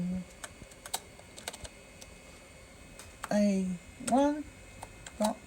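Keys clack in steady bursts on the keyboard of an Acer 500+ XT computer from 1987, close and crisp, with a few short spoken syllables breaking in partway through.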